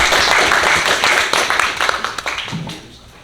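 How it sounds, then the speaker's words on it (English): A small group claps for a few seconds, the applause loud at first and thinning into scattered individual claps as it fades out. "let's give him a round of applause"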